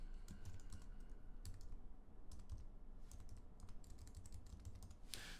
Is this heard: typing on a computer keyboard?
yes